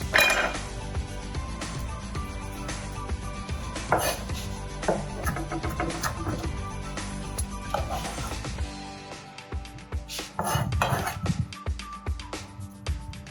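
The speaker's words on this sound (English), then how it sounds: "Cut up some shallots." Shallots being cut up for a basting sauce, a run of knife taps and clinks on a board with dish and utensil clatter, close, with a quieter stretch before a final burst of chopping, no talk.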